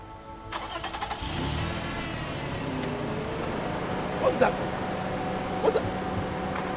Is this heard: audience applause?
no